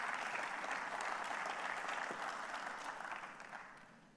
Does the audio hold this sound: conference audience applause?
yes